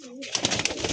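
Madrasi highflyer pigeons stir restlessly at close range, a brief dense burst of cooing and fluttering that starts quiet and turns busier.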